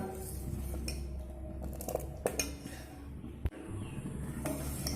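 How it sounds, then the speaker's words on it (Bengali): A spoon clinks and scrapes against a metal pot while sago (sabu) is stirred over a medium flame, with a steady low rumble under repeated light clatters and one sharper knock. "এইভাবে কিন্তু সমানে নাড়তে থাকতে হবে"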